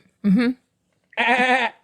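A person mimics a goat's bleat in two separate quavering, nasal calls, the second longer and louder, heard close up with no other sound between them.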